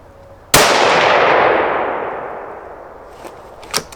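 A single loud rifle shot cracks sharply and rings out in a long decaying tail, followed by a couple of fainter clicks and knocks from handling the precision rifle.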